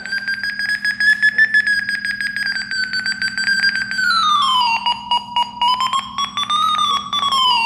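A refrigerant gas leak detector sounds its alarm after sensing gas: a loud, continuous warbling electronic tone that rises and falls in pitch over a steady low hum, with no speech.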